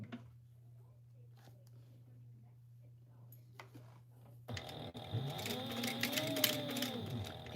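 A sewing machine starts up after a quiet hum and top stitches fabric, its needle chattering in a fast, steady, close mechanical whir that runs to the end.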